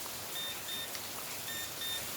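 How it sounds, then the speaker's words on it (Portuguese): A digital thermometer gives two pairs of short, high electronic beeps against a quiet background hiss. "Ele tem um bip"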